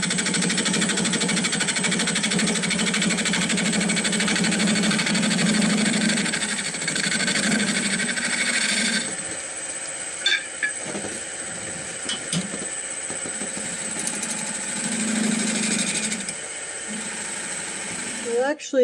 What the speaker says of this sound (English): Okay, one more cut with my bowl gouge.